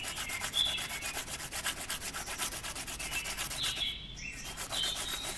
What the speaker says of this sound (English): Sandpaper's still working, but it's pretty black on both sides now.